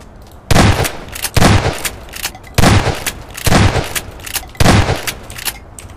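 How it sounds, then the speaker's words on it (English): Heavy booming shotgun blasts during a T-Rex fight in a video game, five loud evenly spaced shots roughly a second apart, each with a brief rumbling tail, and no talking. "I guess it's time for the shotgun?"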